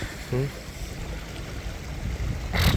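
Rain-swollen stream water rushing past a bridge under construction, a steady broad wash of flowing water throughout with a brief voice near the start and a louder burst near the end.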